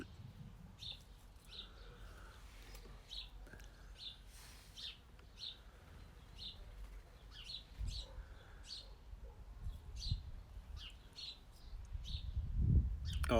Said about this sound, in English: Look when she does her little chirps when you ask her